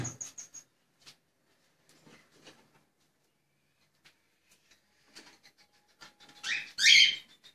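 Cockatiels kept as pets in an aviary with a nest box, giving a few short chirps and scratchy calls scattered over near silence, ending in a louder shrill squawk burst up close.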